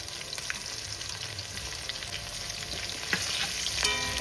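Crushed garlic, seven or eight cloves, hits hot oil in a pan with a steady broadband sizzle and light stirring scrapes, alone and close, with a brief louder crackle near the end.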